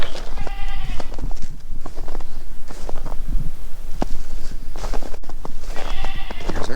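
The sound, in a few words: goats bleating in winter paddock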